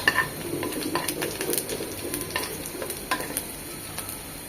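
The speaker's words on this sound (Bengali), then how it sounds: "এই পর্যায়ে আমি এখানে একদম মচমচ করে শুকনো মরিচ দুটো ভেজে নিয়েছি, দিয়ে দিচ্ছি।" Crisply fried dry red chillies crackle in a hot tempering, a close sizzle broken by scattered clinks and scrapes of a utensil against the pan, with no talking.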